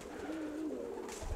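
A female racing pigeon gives a soft, low coo that rolls on for about a second against a quiet background.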